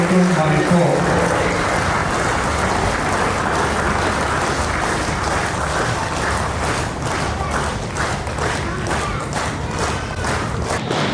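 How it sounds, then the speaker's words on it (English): Sustained audience applause at a college freshers' event fills the space, a dense steady roar of many hands clapping, close and loud throughout with some thumping mixed in. "Shall we all give it a louder round of applause, please?"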